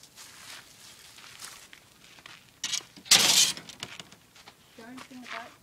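Glass shatters once, sharp and close, while broken glass pieces are gathered during spring cleaning of a tipi. Rustling and handling noises come before it, and a voice follows.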